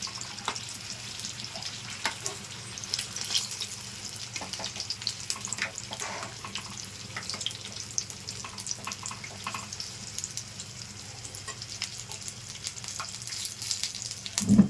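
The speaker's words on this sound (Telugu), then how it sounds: "సిమ్లో పెట్టి మీడియం ఫ్లేమ్లో పెట్టి వేయించుకోవాలి." Bajji snacks deep-frying in oil over a medium flame, a soft, even bubbling hiss that continues steadily and close by, with no talking.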